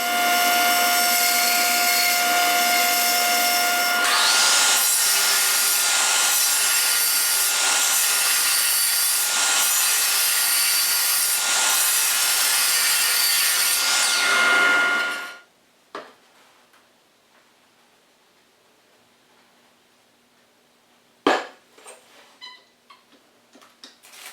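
A Celtic knot rolling pin turns on a wood lathe, making a loud, steady scraping and cutting rasp for about fifteen seconds before it stops abruptly. A few faint clicks and one sharp tap follow in near silence.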